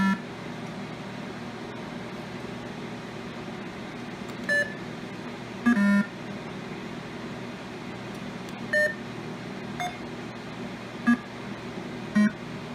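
Beeps from a Pong mini Arcade1up cocktail cabinet during play: about half a dozen short, clear electronic bleeps at irregular intervals over a steady background hum, with no talking.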